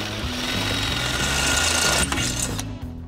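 A power drill bores into the sheet-metal body of a classic 1949 Ford hot rod for a spark plug bung, a loud rapid chattering whir that runs steadily, then cuts off abruptly near the end.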